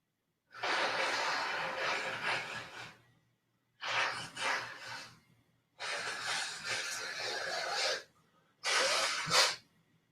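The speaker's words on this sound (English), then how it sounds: "Let me blow my nose." Someone blows their nose in four forceful, wet bursts, each lasting one to two seconds and separated by short pauses, close to the microphone and with no speech.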